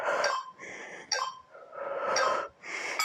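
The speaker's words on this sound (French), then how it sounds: "Soufflez bien." Hard, forceful exhales during a home HIIT cardio workout: several close, loud, breathy puffs in quick rhythm, one after another, with no talking.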